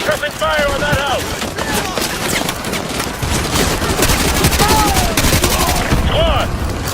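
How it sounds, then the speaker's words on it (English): Heavy squad gunfire in a Call of Duty: Modern Warfare firefight, bursts of automatic rifle and machine gun fire rattling almost without pause for the whole stretch, with shouted voices over the shooting. "Squad, put suppressing fire on that house"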